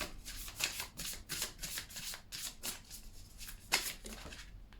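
Tarot cards are riffled and shuffled close up in a steady run of crisp, papery bursts, with one louder slap near the end and no talking.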